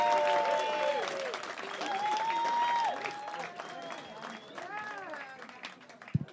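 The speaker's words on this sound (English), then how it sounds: "cheer for Joe Caulfield, everyone!" At a live comedy club, the crowd cheers and applauds for a comedian, with whoops and shouting voices rising over steady clapping before the noise thins out.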